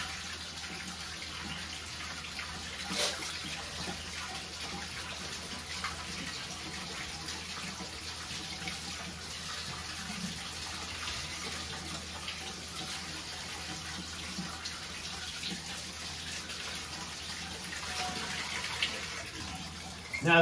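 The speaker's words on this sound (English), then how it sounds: "I'm gonna run my toothbrush over everything." Rusty buried items over a century old scrubbed with a toothbrush in water: a steady wet swishing and running-water wash lasting the whole stretch, close and even, with little talk.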